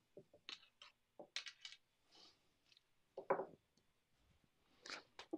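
Craps dice thrown onto a table: a series of quick, close hard clatters and rattles with short pauses between them, ending in a louder tumble and scattered clicks.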